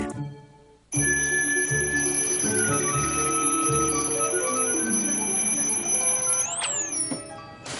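A cartoon alarm clock rings loud and continuous for about seven seconds after a brief quiet start, a bright metallic trill with a rapid bell clatter and a short rising sweep near the end, alone with no talk.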